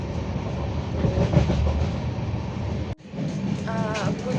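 Inside a moving passenger train, a continuous low rumble and rattle of the carriage fills the space, briefly cut by a short dropout, with a faint tonal sound near the end.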